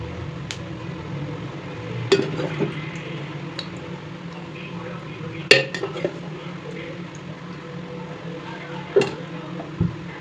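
A kadai set on a stove with oil poured in, heard as a few sharp metallic clanks and knocks of pan and spoon over a quiet background, spaced irregularly and close by.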